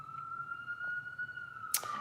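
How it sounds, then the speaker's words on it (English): A siren wails faintly in the distance, holding a steady high tone, with a brief sharp noise near the end. "you can hear the sirens."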